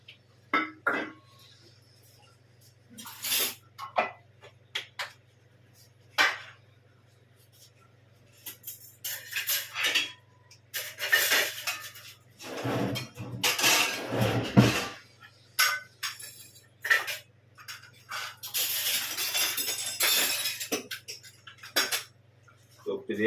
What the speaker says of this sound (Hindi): जो बर्तन शाम को धुले हुए थे, इधर रखे हुए थे सूखने के लिए, वो भी मैंने सेट कर दिए